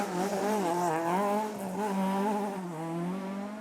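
A Ford Escort rally car spinning on a stage at a historic rally, its engine droning and wavering in pitch with a steady, moderately distant roar and no speech.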